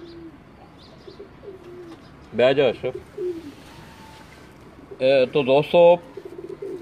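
Pigeons, including white gold pigeons, give soft low coos close by, while someone talks over them in two loud bursts.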